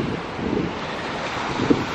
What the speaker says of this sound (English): Lots of big waves for the surfers.